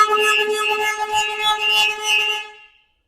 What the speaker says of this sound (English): That was the horn honk.